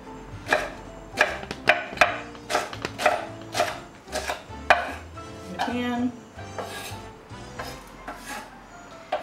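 A knife chops leeks on a cutting board in a quick irregular run of crisp thuds and slicing scrapes, up close and fairly loud, with no talking.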